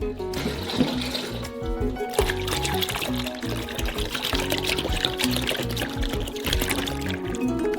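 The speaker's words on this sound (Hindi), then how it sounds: "एक सॉस पैन में मैक्सिमम फैट वाले दूध के 4 लीटर डालते हैं।" Full-fat milk, four liters, pours steadily into a saucepan with a continuous splashing, gurgling flow that stays loud for several seconds.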